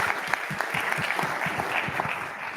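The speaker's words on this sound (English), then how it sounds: "Round of applause for Maria." Audience at an innovation session gives a brief, steady round of applause, a dense patter of many hands clapping at moderate volume.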